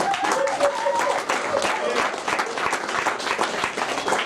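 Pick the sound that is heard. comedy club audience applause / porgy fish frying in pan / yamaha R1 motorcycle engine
comedy club audience applause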